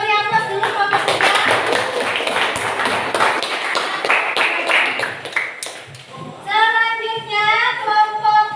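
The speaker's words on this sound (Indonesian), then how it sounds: "silakan kita beri aplaus dulu kelompok 3" A classroom group of students applauds for group 3, a dense burst of clapping lasting several seconds before fading, then a speaking voice takes over.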